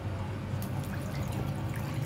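Water pouring into a pressure cooker holding about 500 grams of raw mangoes, a steady, fairly faint liquid splashing and trickling sound with no talk.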